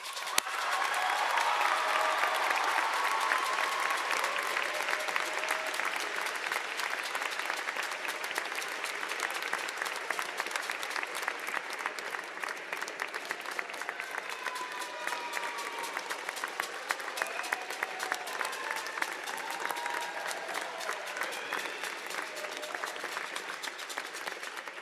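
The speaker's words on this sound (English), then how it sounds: "give them a big round of applause" University convocation graduates applaud their family and friends in a large hall, a long sustained roar of many hands clapping at a moderate distance, steady throughout and slowly thinning toward the end.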